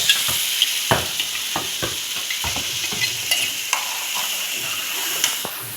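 A ground paste for fish curry stirred and sautéed in a pan, sizzling steadily while a spoon scrapes through it in irregular knocks over about six seconds, with no talking.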